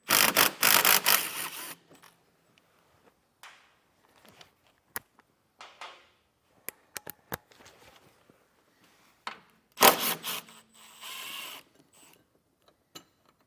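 Hand tools remove bolts from a metal fascia tab during a trailer hitch install on a 2020 Toyota Highlander, with ratchet clicking and sharp metallic taps in scattered bursts, close and fairly quiet, separated by pauses.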